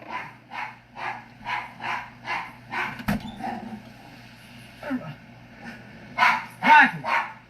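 A dog wearing a cone collar around its head barks repeatedly in a steady series of close, loud barks, followed by a pause and a couple of sharper, whining yelps near the end.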